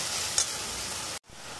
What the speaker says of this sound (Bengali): একটু হলুদ, দিয়ে ভালো করে ভেজে নেব